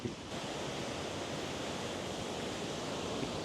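A waterfall roars as a steady, dense wash of rushing water, loud and unbroken throughout, heard from nearby with no voices.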